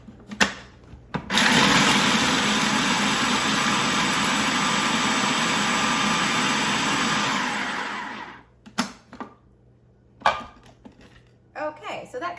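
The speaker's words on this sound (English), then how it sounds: "I'm going to grind these up together." A kitchen blender grinds walnuts and oats together, a loud, steady whirring roar running about seven seconds before cutting off, followed by scattered clatter and handling knocks.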